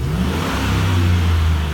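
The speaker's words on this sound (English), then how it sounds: "Give her a couple revs" A Gen 4 5.3 LS V8 from a Chevy Silverado 1500, rev limited to about 3,000 RPM, revs up and holds, a loud, close, rising engine drone without speech.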